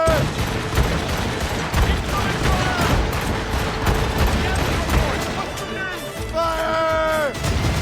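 Ship cannon volleys boom in an Assassin's Creed Rogue naval battle, dense repeated blasts layered with crashing impacts and battle noise, while voices shout orders over the gunfire.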